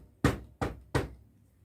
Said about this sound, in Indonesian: ketukan kuat yaitu menggunakan meja